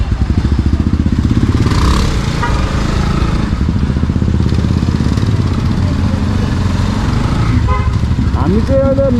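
Several motorbikes carry five riders along a country road toward Simle, their steady engine drone loud and continuous throughout, with a horn-like toot and wind noise near the end.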